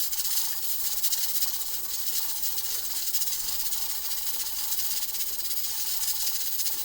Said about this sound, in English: You want it rocking, but you don't want it putting out a lot of steam.